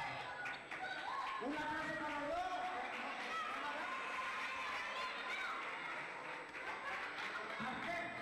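A crowd claps and cheers for Los Payasos Popi, a clown act performing at a neighbourhood show in Las Majadillas, Tamaraceite. The steady applause runs through the whole moment, mixed with chatter and voices talking over it.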